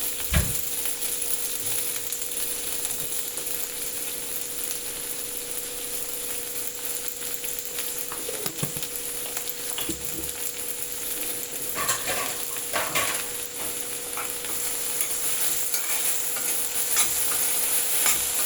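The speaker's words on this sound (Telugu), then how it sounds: "ఉల్లిపాయలు అయితే బాగా బ్రౌన్ కలర్ వచ్చే వరకు ఫ్రై అవ్వాలండి." Onions frying in a pan until browned, giving a steady close sizzle with occasional scraping and stirring clatter of a utensil against the pan, continuous throughout with no talking.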